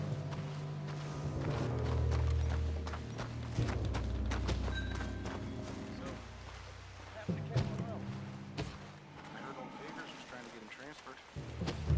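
Horse hooves clip-clopping in Red Dead Redemption 2, a run of irregular thuds and knocks close by with a voice speaking over part of it.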